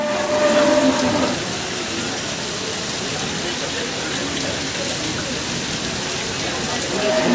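Heavy rain pours down at an outdoor cattle market in Jagraon, a dense, continuous hiss of drops striking surfaces, loud and steady across the whole stretch, slightly stronger at the start.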